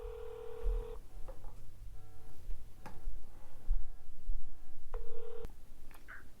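A smartphone dial pad beeps with tones as a call is placed to its own number, followed by faint ringback tones, all clear and alone in a quiet room.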